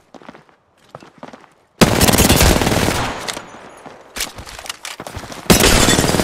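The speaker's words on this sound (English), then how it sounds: "Getting shot at." Gunfire in the video game Apex Legends: softer scattered shots, then a loud burst of rapid automatic fire, followed by further bursts at close range.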